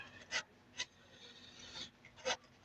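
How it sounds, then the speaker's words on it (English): A serrated steak knife sawing through food, giving a few faint, short rasping strokes spaced apart in a quiet room. "Cutting with a serrated steak knife instead of a proper knife."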